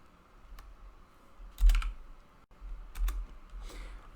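Keys on a computer keyboard are tapped in short scattered bursts, a few sharp close clicks separated by quiet gaps, with no talking.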